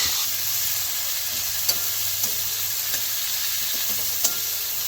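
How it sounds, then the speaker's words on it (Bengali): Onion and garlic sizzle steadily in a pan while chicken curry is being cooked, with a loud, continuous frying hiss and a few soft stirring scrapes breaking through now and then. "এই যে পেঁয়াজ চলে গেল রসুন লাল হয়ে গেছে"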